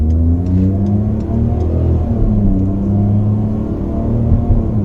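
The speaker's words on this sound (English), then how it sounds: "I would like to see how does this automatic gearbox perform with high accelerator input and immediate acceleration" Ford Figo automatic hatchback accelerating hard with the pedal fully down, a loud, steady engine roar that holds a rising, sporty note throughout, with no voices.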